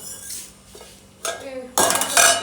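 Metal pots and dishes clatter and clink close by, a few light knocks followed by louder, bright crashing of cookware.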